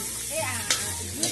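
Pork curry sizzles and fries in a pan as it is stirred, with scraping strokes and a steady hiss close up.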